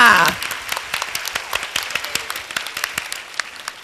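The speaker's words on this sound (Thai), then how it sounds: "ลุกขึ้นมาเลยปรบมือต้อนรับนิดนึงค่ะ" An audience at a Thai school student event applauds to welcome a student, a steady stream of sharp, close claps after a brief voice at the very start.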